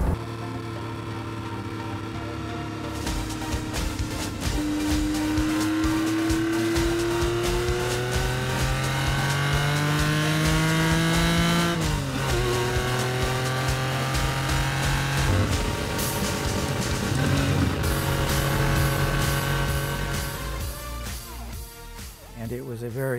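A vintage homologation sports car engine drones and revs through several gear changes, rising in pitch and dropping back, loud and continuous with a voice talking over it.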